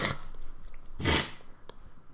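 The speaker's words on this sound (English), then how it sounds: "I got to sneeze." A single sharp sneeze bursts out near the mic, preceded by a quick breathy intake, with quiet room noise around it.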